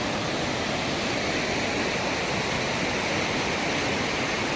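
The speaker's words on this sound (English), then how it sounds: "Look at this little waterfall. I don't know, the sound of river," A small waterfall and river in a canyon rush steadily and loudly, a dense unbroken roar of water that fills the whole stretch with no voices.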